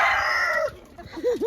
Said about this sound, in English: we have about 30 chickens.